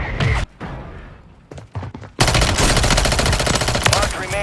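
Rapid machine gun fire in the video game Warzone Rebirth, a few short bursts at first, then a loud, sustained stream of automatic shots filling the second half.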